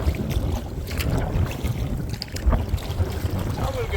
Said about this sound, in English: Ooh, the wind is blowing.